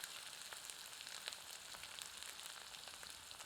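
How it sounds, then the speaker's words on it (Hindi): Onions frying in hot oil for a green mutton curry give a steady, close, soft sizzle with scattered faint crackles and no voices. "इसे 2 मिनट मध्यम आंच पर भूनते हैं"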